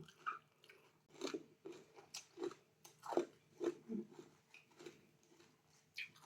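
Close, crunchy chewing and biting on spicy pounded rice-noodle salad with sugar palm fruit and raw shrimp soaked in fish sauce, about a dozen rhythmic bites with no talking.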